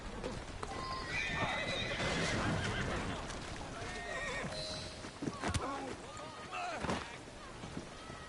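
Horses neigh and their hooves clip-clop near a carriage on the streets of Assassin's Creed Syndicate, with loud whinnies rising over a steady background of clattering hooves and game ambience.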